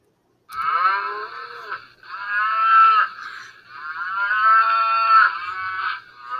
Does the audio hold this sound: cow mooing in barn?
yes